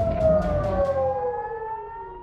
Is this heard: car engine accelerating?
no